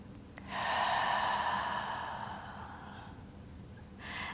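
A long, deep audible inhale through the nose during Pilates leg circles, close and clear, then fading, with a second breath starting near the end.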